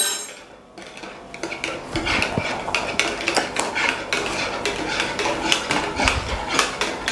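A utensil clatters against a bowl while garlic and herb bread dough ingredients are mixed, with quick repeated scraping and knocking strokes, close and uneven, no talking.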